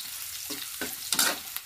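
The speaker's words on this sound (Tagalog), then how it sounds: "Nagigisa po tayo ngayon ng bawang at sibuyas" Garlic and onion sautéing in a pan as the base for dinuguan, a steady sizzle broken by several scraping stirs of the spatula, close and moderately loud, with no talking.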